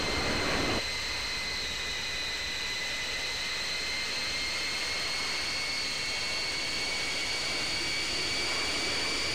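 Airplane engine running steadily while taxiing, a continuous loud drone with a high whine, close and constant throughout, no talking.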